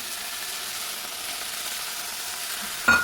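Mango pieces sautéing in a pan for a seasonal mango, cucumber and corn dish give a steady, soft sizzle throughout, with a brief louder clink or stir near the end.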